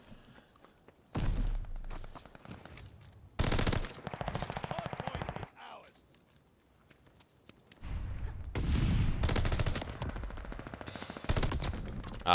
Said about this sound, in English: that guy unfortunately didn't stop shooting